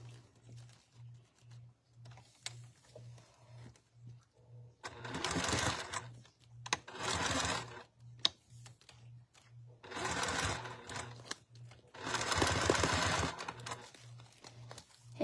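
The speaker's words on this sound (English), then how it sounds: "we'll sew the 1/4 inch seam" A sewing machine runs a 1/4 inch seam through clear vinyl in three separate bursts of fast, rattling stitching, with a quiet, steady pulsing hum in the pauses between.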